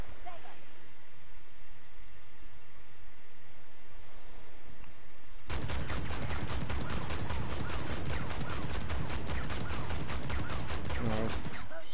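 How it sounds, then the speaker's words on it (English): Gatling gun fire in the tank video game Armored Warfare: after several seconds of low ambient rumble, a continuous, fast, loud stream of rounds rips out and keeps going to the end. "Gatling gun."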